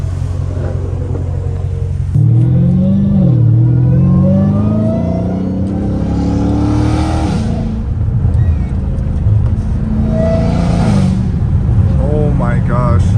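A straight-piped Dodge Hellcat Redeye accelerates hard from inside the car, a loud raw exhaust roar climbing through rising revs in sweeping pulls, with voices talking over it.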